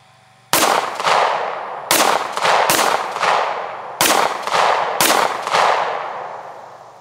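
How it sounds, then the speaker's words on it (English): Pistol rounds striking a body armor plate outdoors: five loud, sharp reports at uneven intervals, each followed by a long ringing decay, with no talking. "I'm gonna shoot this same plate a couple of times with a pistol."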